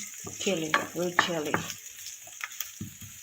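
Yellow onions and red chili sizzle in a pan with a soft continuous fry and a few stirring knocks. A voice speaks over the first half, and the frying carries on alone after that.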